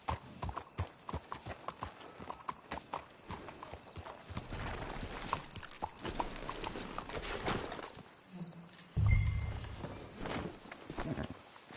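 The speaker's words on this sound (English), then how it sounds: "Get a hold of that horse, will you?" Horse hooves clip-clopping in Red Dead Redemption 2, a steady run of close, crisp hoofbeats on hard ground with a brief snort and shuffle partway through, no speech over it.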